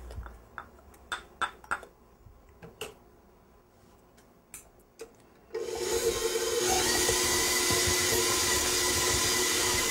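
Electric mixer creaming butter with sugar and lime zest for green chile cookies, starting after a few scattered knocks and clatters and then running as a steady, close whirring drone to the end.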